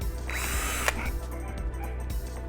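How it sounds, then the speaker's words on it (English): A handheld power drill whirs as it bores holes through thin plastic Solo cups, its motor note shifting as the bit breaks through, loud and close, with light plastic clicks and rattles in between. "Easiest way to do this is you get to use a drill."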